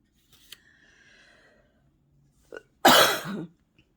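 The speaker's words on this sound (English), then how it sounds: "you're going to hear me cough from time to time" One sharp, harsh cough close by, preceded by a few faint clicks and quiet rustling in an otherwise quiet room.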